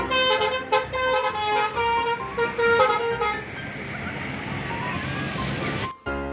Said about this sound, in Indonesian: Lihat-lihat, di sini ada bus telolet.